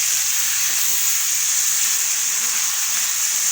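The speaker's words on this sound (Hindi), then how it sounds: "अब डाल दिया इसमें टमाटर और हरी मिर्च" Tomato and green chili hit hot oil and sizzle with a loud, steady, unbroken hiss that holds level from start to finish, with no voices over it.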